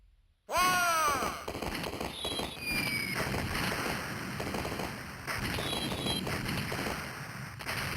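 Cannons firing in the arcade game Tetris Castles (Rampart), a sudden loud volley of booms followed by crackling blasts and whistling projectile sounds continuing for several seconds.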